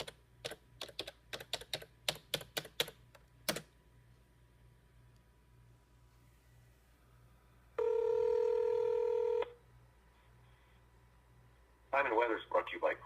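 Telephone DTMF keypad tones dial a time and temperature number: a quick series of about ten short beeps, then a single sustained ring tone. A burst of recorded sound follows faintly on the line.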